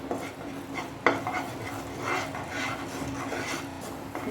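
Sugar melting to a light brown caramel is stirred in a pan, with soft scraping strokes, faint sizzling and a sharp clink of the utensil against the pan near the start.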